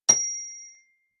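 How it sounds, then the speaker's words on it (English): A single strike of a small bell, rung to clear the space before a prayer, rings out clear and close with a bright tone that fades over most of a second, alone and without voices. "Mind your ears, here comes the bell."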